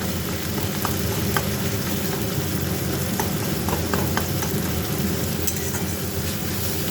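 Chopped tomatoes stirred with a spatula and fried in a pan until they melt down, a steady close sizzle with faint scraping clicks running evenly throughout.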